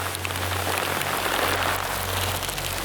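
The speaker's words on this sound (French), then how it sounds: "Bon, tournage interrompu pour cause de pluie." Heavy rain pours inside a volcano crater, a continuous dense patter and hiss on nearby surfaces with a low steady hum underneath and no voices.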